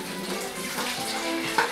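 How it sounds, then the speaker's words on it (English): Water rushes and gurgles steadily through a siphon tube draining a 54-gallon saltwater aquarium, a continuous watery hiss with small bubbling bursts near the end. "by sucking on the tube, water starts running."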